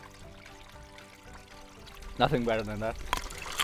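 Icy mountain creek water trickles and pours into a bottle on a winter hike in Norway. It is a steady, close rushing that gets louder and then continues under a voice.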